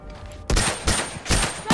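Rifle shots in The Last of Us go off in four loud, sharp bursts spaced roughly evenly over under two seconds, with no voices over them.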